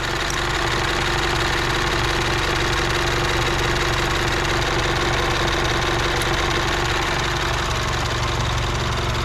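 MINI Countryman engine running steadily after a cylinder head repair with its exhaust flap solenoid disconnected, a dense, close, constant idle hum with low rhythmic pulsing and no voices.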